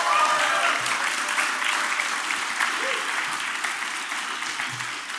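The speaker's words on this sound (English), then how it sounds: "give them a round of applause for me" Audience applause at a drag performer's club show, a dense steady wash of clapping that holds for about five seconds and fades slightly toward the end, with faint voices mixed underneath.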